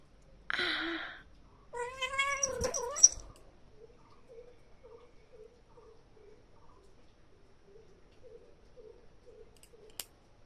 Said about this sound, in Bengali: তুই হলো বন বিড়াল তুই যা বনে যা